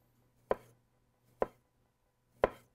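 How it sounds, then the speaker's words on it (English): Three separate knife strokes cut through a seedless cucumber onto a board, each a crisp, close chop spaced about a second apart, with quiet room hum in between. "I have some seedless cucumber. We'll add to it just some pretty slices."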